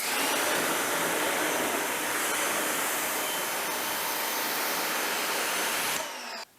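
A high-flow pressure washer rinses a car, a loud, steady rushing spray held close for about six seconds before cutting off abruptly.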